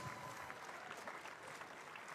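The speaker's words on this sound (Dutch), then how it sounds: "Applaus." Steady applause from an audience, a continuous patter of many hands clapping at moderate volume with no pauses.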